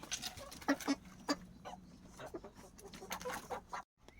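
Chickens cluck repeatedly nearby in short, uneven bursts, with other farmyard noise in the background.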